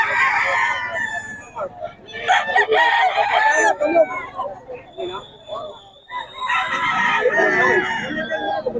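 A rooster crows repeatedly with loud, shrill calls, while chickens cluck and squawk close by at a chicken market in Bocaue, with some chatter mixed in.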